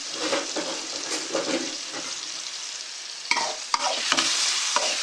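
Tomatoes and spices with turmeric sizzle and fry in a pan while being stirred for tomato rice, with scraping clicks and a steady hiss throughout, no voices.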